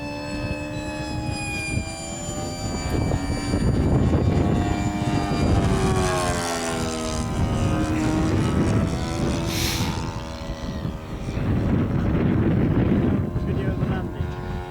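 A propeller-driven warbird aircraft flies overhead in cold, windy weather, its droning engine rising and falling as it passes and fading away, with wind buffeting the microphone and a person talking over it.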